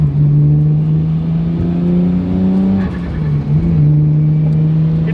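A Nissan Skyline R33 GTS with a 5-speed manual and 380 horsepower accelerates hard from inside the cabin, its engine droning loud and steady as revs climb, dipping briefly at a gear change, then pulling on again.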